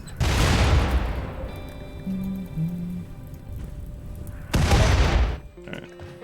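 Mortar shells from new accurate mortars in the RimWorld video game, firing and exploding: two loud, deep booms about four seconds apart, each a broad burst that fades into a low rumble, with no voices.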